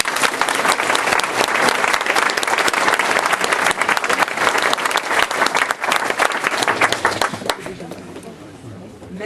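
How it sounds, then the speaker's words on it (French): A crowd at a French public town meeting gives a speaker loud, dense applause that holds strong for about eight seconds before tapering slightly. "Je voudrais que vous l'applaudissiez"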